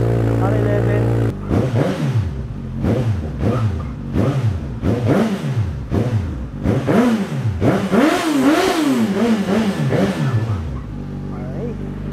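A 2022 Suzuki GSX-S 1000 with an original Yoshimura R11 exhaust idles, then revs hard in a series of rising and falling blips, loud and close, with someone talking over parts of it.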